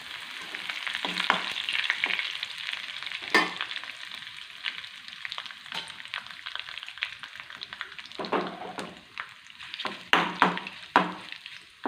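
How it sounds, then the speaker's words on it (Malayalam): Curry leaves frying in hot oil in a home kitchen while jackfruit-seed snacks are made, a steady close sizzle and crackle with occasional louder spits and stirring scrapes, no voices. "കറിയാപ്പിലോട്ട് വറുത്ത് പോരാമേ"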